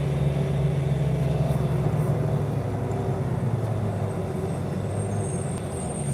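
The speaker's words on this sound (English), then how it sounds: "The diesel is very loud on this bus here." A diesel bus engine drones loudly and steadily from inside the moving vehicle, with a low rumble and a bumpy ride, continuous throughout and no one talking.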